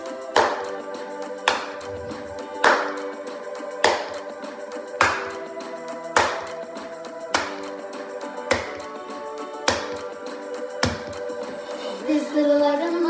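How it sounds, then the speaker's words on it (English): Children's hands clapping along to a song, a steady beat of single claps a little over a second apart under a sustained musical backing, with a rustling burst near the end. "Come on, everybody, clap along."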